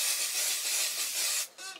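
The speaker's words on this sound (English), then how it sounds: "So I'm completely out of my favorite spray. Let me see if I can get a little bit out." A nearly empty can of hair spray gives one continuous hissing spray lasting over a second, then sputters briefly and stops.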